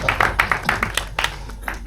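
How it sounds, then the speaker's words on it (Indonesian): Short burst of applause for Arjuna, a cast member of the film Sekawan Limo 2, made of rapid, uneven hand claps from a small nearby crowd that fade and thin out over about two seconds. "Tepuk tangan dong buat Arjuna."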